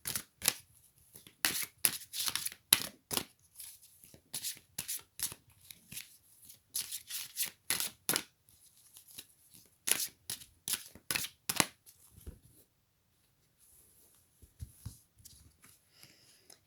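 Oracle cards being shuffled by hand, a series of quick crisp riffling bursts in uneven rhythm, close and fairly quiet, with a short pause before a few softer final shuffles.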